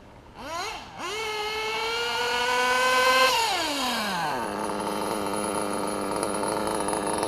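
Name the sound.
Nova P5 engine idling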